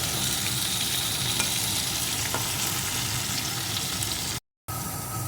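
Potatoes fry in a pan over medium-low heat, giving a dense, even sizzle with faint crackles. It continues steadily apart from one short silent gap near the end.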